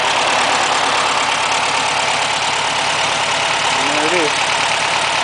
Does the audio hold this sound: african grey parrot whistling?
no